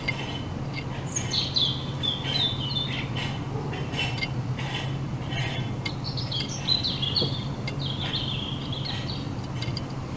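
Small birds at a backyard garden feeder with coconut and mealworms, sparrows among them, chirping and tweeting in bright, scattered bursts over a steady low hum, moderately close and continuous throughout.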